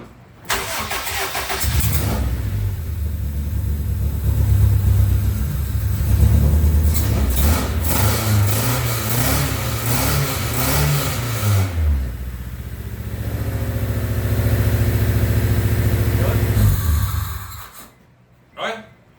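An engine on a John Deere D17 tractor, freshly fitted with a new head gasket and ARP head studs, cranks, catches and runs with loud, rising and falling revs before cutting off, as people talk nearby.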